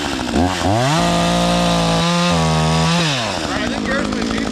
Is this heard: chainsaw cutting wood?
yes